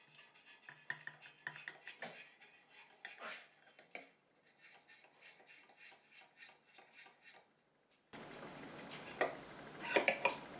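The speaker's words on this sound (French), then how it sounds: "Je prends ma phase aqueuse que je vais incorporer dans ma phase huileuse tout en mélangeant." A homemade deodorant emulsion is stirred as the aqueous phase goes into the melted oil phase, with faint scraping, clinking and rubbing of a utensil against a container, then a louder rasping, steady whisking at the end.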